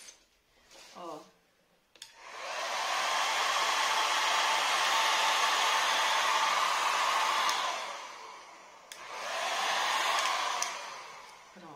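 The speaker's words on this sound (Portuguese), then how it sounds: "Vou pegar aqui o secador e mostrar pra vocês." A hair dryer blows in a steady broadband rush for about five seconds, cuts off briefly, then runs again, used as a heat source to erase a heat-erasable pen mark in a craft workshop; brief talk and clicks precede it.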